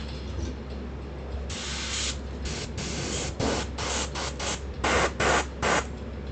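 Airbrush spraying paint onto a resin 3D printed model, heard as a series of sharp, close hissing bursts that start and stop in short pulses over a steady low background hum.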